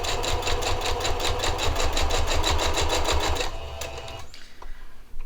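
A sewing machine stitches quilt binding onto a quilted placemat, a fast rhythmic needle chatter for a few seconds before stopping, leaving quieter handling sounds.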